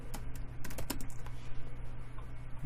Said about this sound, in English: I'm just going to type in fitness demo